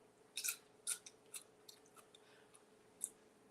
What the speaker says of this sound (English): So you all heard it has the crunch of like an apple or a pear